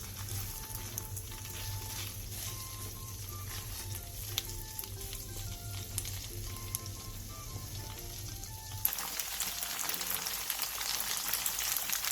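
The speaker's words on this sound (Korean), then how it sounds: "그 다음 예열된 팬에 두부를 올려 중불에서 앞뒤로 노릇노릇하게 구워주세요." Tofu pan-frying over medium heat in a preheated pan, a dense steady sizzle close up, with faint background music at first and the crackle growing brighter and louder near the end.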